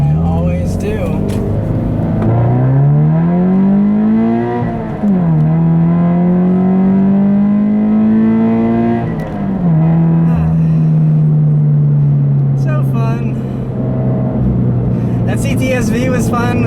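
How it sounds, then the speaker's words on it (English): A 2014 Subaru BRZ of about 200 horsepower accelerates hard through the gears, heard loud from inside the car. Engine pitch climbs steadily, drops at each of two upshifts, then settles into a long, slowly falling drone. "I'll leave you guys with a nice little acceleration here"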